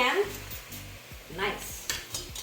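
Curds are dropped into a hot pan while cooking Trinidadian paynoose, giving soft sizzling and a few scraping stirs in short bursts, fairly quiet and close.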